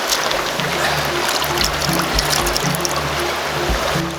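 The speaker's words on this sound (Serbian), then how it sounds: "Soča je jedna od najlepših planinskih reka koje sam ikada video" Flowing water of the Soča, a clear emerald-green mountain river in Slovenia, rushing steadily and close by, a continuous broadband wash with a low rumble underneath and no voices.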